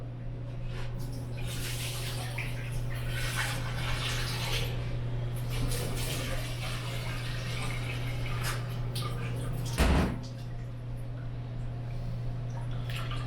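Jasmine rice grains being rinsed and swirled in water, soft sloshing and trickling with drips, quiet and close, with a brief louder splash near the end.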